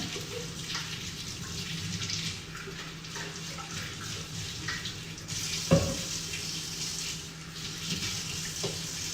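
A kitchen tap runs while something is washed under it, a steady close rushing splash with a couple of sharp clunks partway through, heard alone without talking.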